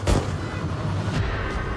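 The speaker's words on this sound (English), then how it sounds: "all of a sudden, he hears gunshots." Gunshots crack out as a sound effect, with a sharp blast at the start and fainter reports following over a low rumble, without any voices.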